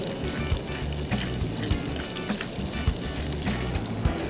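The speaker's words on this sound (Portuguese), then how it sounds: "e a gente vai salteando dessa maneira só para intensificar sabor" Red bell pepper sautéing in a pan with a sprig of rosemary, salt and black pepper, giving a steady close sizzle with small crackles and stirring clatter throughout, no voices.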